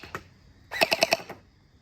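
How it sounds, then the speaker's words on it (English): A Nerf Nightfall hopper gel blaster fires a quick burst of four or five sharp, evenly spaced mechanical snaps, preceded and followed by a couple of fainter single clicks in a quiet outdoor night setting. "So what we're gonna do is shoot it, see how the tracers look."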